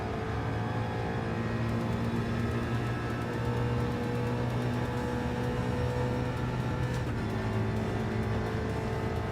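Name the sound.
race car engine in video game Gran Turismo 7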